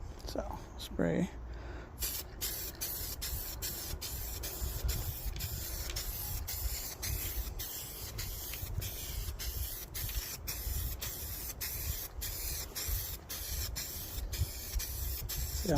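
Primer paint sprays from a can onto a chipped spot in car paint, a steady hiss broken by rapid repeated short bursts, close by, with brief handling noise at the start.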